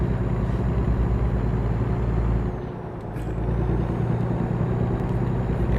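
Engine drone of a 500-horsepower truck in American Truck Simulator, a steady low rumble with a hissing air-brake release around the middle, loud and continuous with no talk.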